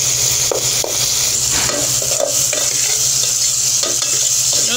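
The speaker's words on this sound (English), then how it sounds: "We don't have to fry your tomato for too long once they are fresh." Fresh tomatoes fry in a pan with steady sizzling while a utensil stirs them, scraping in repeated strokes close up; no one talks.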